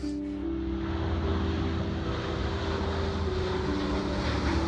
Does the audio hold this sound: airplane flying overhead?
yes